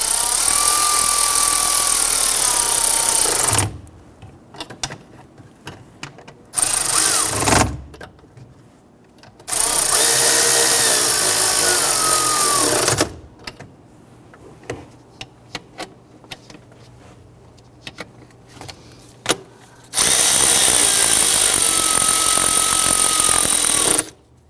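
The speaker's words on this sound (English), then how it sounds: "switch over to your power tool if you have one" Three loud bursts of a whirring power tool tightening bolts during a knock sensor replacement on a 2011-2014 Kia Sorento, running for several seconds each, separated by quieter stretches with clanks and handling noise, close up.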